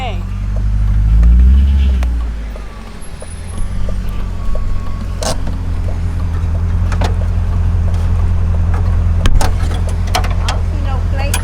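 A BMW E34 540i with fresh paint pulls away with a low engine rumble that settles into a steady idle-like hum, with a few clicks and knocks and a voice over it.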